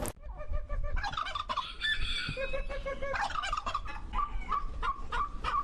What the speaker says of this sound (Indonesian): Zulfadli, dirinya memanfaatkan WFH dengan budidaya ayam kalkun hias di kediamannya